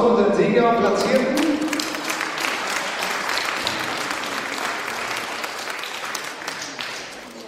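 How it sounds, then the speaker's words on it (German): Audience applause for the winners and placegetters at a fencing competition award ceremony, with steady, dense clapping from a sizeable crowd that fills the whole stretch and tapers slightly toward the end. "dann nochmal Applaus für unseren Sieger und Platzierten."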